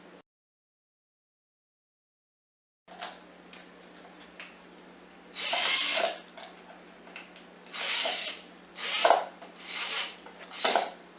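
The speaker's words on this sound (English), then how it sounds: "I'm just going to make some little notches at the bottom of the tube" Notches being cut into the bottom of a plastic tube with a slow drill: after a few seconds of silence come bursts of grinding and rasping, near and moderately loud, with gaps between them.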